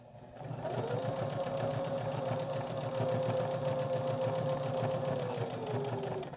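A sewing machine runs steadily for about six seconds while stitching fabric for a car seat belt cover, its motor whirring in a continuous, even hum close by with no pauses and no talk.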